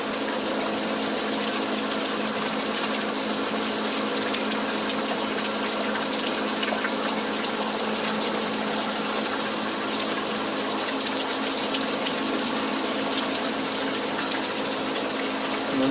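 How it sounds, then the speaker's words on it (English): Heavy rainwater rushes steadily into a 5-inch NDS channel drain, a continuous broadband gushing that stays close and loud without a break. "There's all the water coming down and going in."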